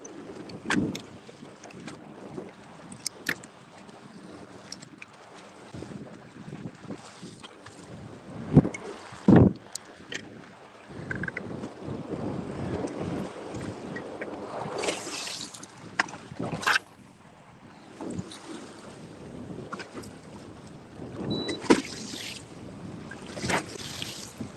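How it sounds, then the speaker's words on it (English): Wind buffets the microphone on a boat out on Lake Lanier on an overcast day, a steady rumbling gusty roar with scattered knocks and thumps from the boat, continuous and close, with no talking. "I know you guys can hear that wind, right?"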